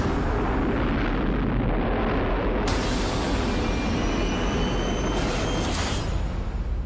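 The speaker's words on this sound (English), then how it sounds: "when the rocket ship takes off." A rocket ship takes off with a loud, continuous roaring rumble that stays dense throughout, a bright hiss swelling partway through, and no talking.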